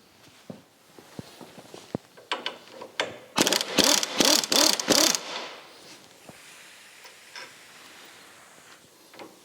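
Hand tools work loose the upper wishbone bolts on the rear suspension of a Formula Konig race car: scattered metallic clicks and clinks, then a run of rapid, loud ratcheting bursts, followed by a few more light knocks.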